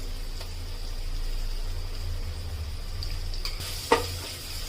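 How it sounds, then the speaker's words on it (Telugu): Green chillies fry softly in oil with turmeric and ginger garlic paste for a Hyderabadi mutton haleem, a faint, steady sizzle with a single sharp knock of a utensil near the end. "ఒక నాలుగైదు పచ్చిమిర్చి ఇవి మంచిగా ఫ్రై అవ్వాలి"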